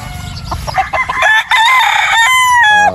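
A pure Gelmore gamefowl broodstag rooster crows loudly and close, with a rising, strained call that is broken by clucks and short pauses.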